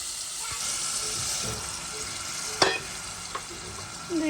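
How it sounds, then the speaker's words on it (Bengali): Steady sizzling of a hot frying pan of chicken curry with potatoes as water goes in, with a few stirring clinks and scrapes, close and continuous. "পানি দিয়ে দিলাম।"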